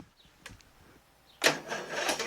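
A Briggs Vanguard engine on a Toro Wheel Horse 1238XL lawn tractor cranks over from quiet, with a couple of faint clicks before a sudden, loud, rough grinding burst of starter motor turning that continues to the end.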